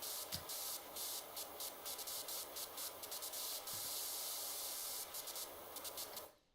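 A pressure washer sprays water in PowerWash Simulator 2, a loud continuous hiss broken by short, rhythmic pauses as the trigger is released and pulled again before it cuts off at the end.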